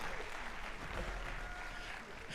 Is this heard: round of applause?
yes